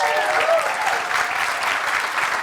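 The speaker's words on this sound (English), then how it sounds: "Please give her a round of applause." A community forum audience gives a round of applause for an incoming moderator, dense steady clapping filling the room without pause.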